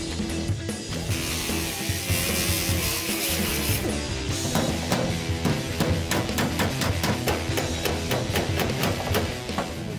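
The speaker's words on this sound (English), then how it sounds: "I can cut the studs off and finish it all out with a hammer and dolly" Hammer and dolly shaping sheet metal on the trunk of a 1970 Chevy Camaro RS/SS, a fast run of sharp metallic taps, close and loud, repeating steadily over a background of workshop noise.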